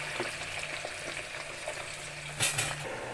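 Chicken pieces fry in oil in a pan, giving a steady, soft crackle and sizzle, with light stirring scrapes and one brief metallic clink near the end.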